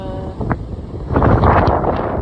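Gusty wind near Seldovia, Alaska buffets the microphone, rumbling low and rising into a stronger rush in the second half.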